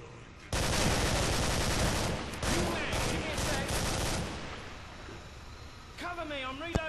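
A video game firefight with loud rapid gunshots in a dense volley that runs for several seconds and then trails off, followed by a brief voice.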